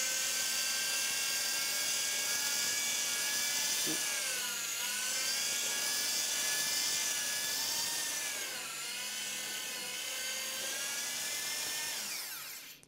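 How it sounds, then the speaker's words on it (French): Electric power mixer with a paddle whirring steadily as it blends Knauf Proplak joint compound, a high-pitched motor whine with slight dips in speed, loud and close, running alone for about twelve seconds before winding down. "Là, je vais le malaxer un petit coup."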